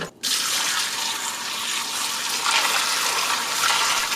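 Water runs from a refrigerator dispenser, flushing through a new filter in a steady, continuous stream, a close hissing splash that starts after a brief pause and keeps flowing evenly.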